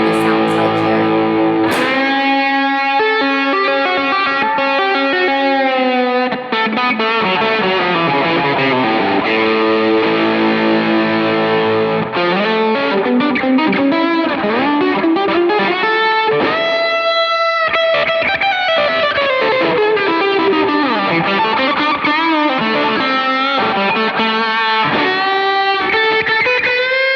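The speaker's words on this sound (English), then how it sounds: "my humbucker pickup here, and I'm just going to do just some random little noodles with a bit of overdrive on it here" Electric guitar through a humbucker pickup with light overdrive noodles freely, sustained distorted single notes and bends with some chordal stabs, loud, continuous and close for the whole stretch, no talking.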